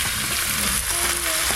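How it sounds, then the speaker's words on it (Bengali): Potatoes, pumpkin and Malabar spinach fry in hot oil, giving a steady close sizzle with faint stirring scrapes throughout the short stretch. "এবার আলু, কুমড়ো আর পুঁই শাক সব একসঙ্গে দিয়ে দেবো। দু চারবার একটু ভালো করে নেড়ে নিয়েছি।"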